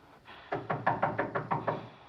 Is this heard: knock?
yes